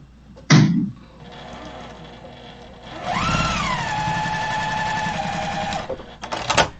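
Sewing machine stitching quilt blocks together, a steady mechanical whir running for about three seconds after a short clunk, ending with a few quick stitches.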